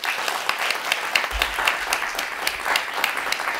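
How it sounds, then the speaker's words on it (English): A museum audience applauds the authors after a book discussion, dense, fairly loud clapping from many people that carries on steadily without anyone speaking. "can I get a huge round of applause for Dr. Mark Sawamura and, of course, Dr. Roy Wesley here today"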